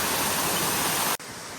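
A small waterfall of flowing water gives a dense, continuous rush close by, cut off abruptly near the end by a quieter, thinner wash of the same flow.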